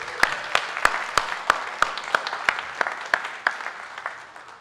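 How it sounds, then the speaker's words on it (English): Near the end of a church annual meeting with worship, an audience claps in slow, evenly spaced unison, about fifteen sharp claps over a softer wash of applause that gradually fades. "Can we give them another round of applause?"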